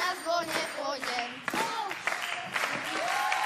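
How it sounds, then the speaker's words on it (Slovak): An audience applauds after carolers perform at a Slovak nativity show, with steady clapping filling the room while a voice speaks over it. "my vám oferujeme tento veľký potlesk"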